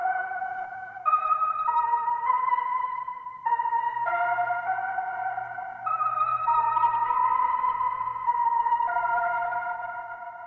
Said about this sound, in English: And there you can hear a really crazy effect as I adjust that pitch up.